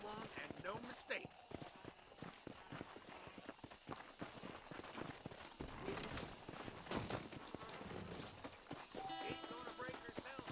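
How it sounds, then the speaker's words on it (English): Horse hooves clip-clopping in the video game Red Dead Redemption, an irregular run of hoof thuds around a restless wild horse, under and between spoken dialogue. "This steed looks right fetchy, I don't mind telling."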